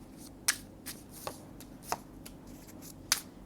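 Oracle cards shuffled by hand during a tarot reading: a few quiet, sharp riffling snaps and flicks at irregular intervals over a faint background, with no voices.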